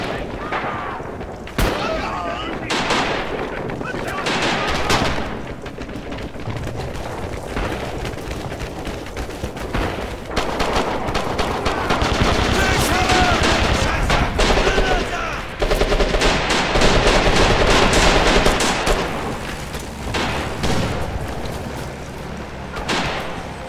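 Continuous battlefield gunfire from Red Orchestra 2: Heroes of the West, with machine-gun bursts, rifle shots and heavier booms layered densely, growing louder toward the end, with voices shouting over the fighting.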